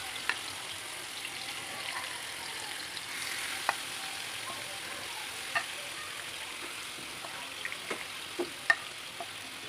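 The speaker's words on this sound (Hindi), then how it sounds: "बिल्कुल लो फ्लेम में मैंने इसे फ्राई करूँगी।" Marinated chicken frying on a low flame for a paratha roll, a soft, even sizzle with faint scattered pops and crackles throughout, and no voices.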